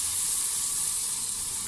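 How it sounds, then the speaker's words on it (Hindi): Chicken frying with turmeric and salt in a pan gives a continuous, even sizzle and hiss with no breaks or talking, over a brief moment. "और इसको अच्छी तरह से भून लेंगे"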